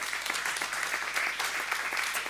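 Church congregation clapping in praise of the Lord during a French-language sermon, a continuous lively wash of applause from many hands.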